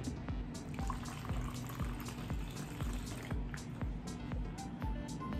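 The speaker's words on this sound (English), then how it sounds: "And then, you can now pour more water." Water is poured into a pitcher of cold brew coffee, a quiet trickling with scattered drips and splashes running steadily throughout, heard close up without talk.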